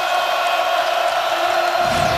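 A basketball arena crowd at a Nebraska game roars and cheers, a dense, loud, sustained wall of voices and whoops with no break, filling the space.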